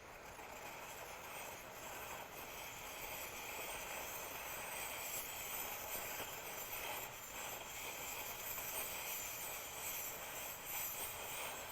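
A camp stove burner: a steady, broad hiss holds throughout with a low rumble beneath it, continuous and fairly close, with no other sounds.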